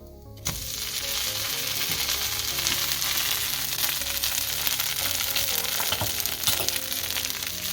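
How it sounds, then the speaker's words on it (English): Dosa sizzling on a hot pan, a loud steady frying hiss that starts abruptly and continues throughout, with occasional light scraping clicks from the utensil. "So now one side is cooked, so I'm going to flip it so that the other side also gets cooked."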